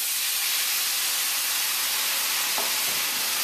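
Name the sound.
Jamaican peppered shrimp simmering in own juices and lemon juice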